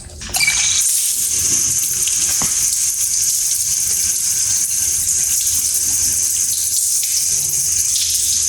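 Water spraying onto a painted car panel during a car wash, a loud, steady hissing rush that starts abruptly and holds constant throughout, close up, with no talking.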